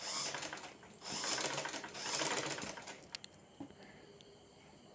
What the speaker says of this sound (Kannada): ಈಗ ನಾನು ನೆರಿಗೆ ಹಾಕ್ಕೊಳ್ತಾ ಸ್ಟಿಚ್ ಮಾಡ್ಕೊಳ್ತಾ ಹೋಗ್ತಾ ಇದ್ದೀನಿ